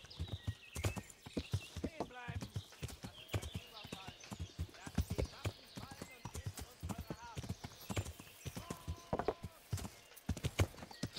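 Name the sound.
horse hooves while riding through a forest in Kingdom Come: Deliverance video game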